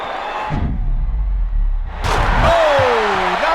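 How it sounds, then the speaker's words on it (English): Vince Carter throws down a hard slam dunk in the NBA Live 2005 slam dunk contest on PS2, a heavy thud followed by a swelling arena crowd roar and a high whistling tone. "he dunked it hard, it went through clean"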